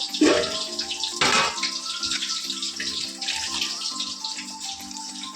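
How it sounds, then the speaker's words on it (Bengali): Tap water runs into a vessel to soak freshly cut vegetable stalks, a steady splashing gush that starts abruptly with a couple of louder surges early on, close and alone with no talking. "কাটা জলে ভিজিয়ে রাখি"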